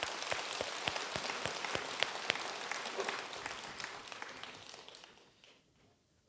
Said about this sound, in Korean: 우리 큰 박수 한번 보내주십시오